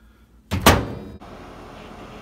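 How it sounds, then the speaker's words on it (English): A microwave oven door thuds shut, followed a moment later by the steady low hum of the microwave starting up as eggs are hard-boiled inside; close and clear, with no talking. "now let's put it in the microwave for 10 minutes"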